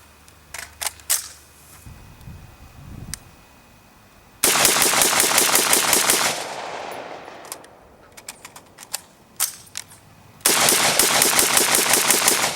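Bursts of rapid automatic gunfire from an X95 rifle emptying its magazine, two long sustained volleys with scattered single shots between, loud and close outdoors.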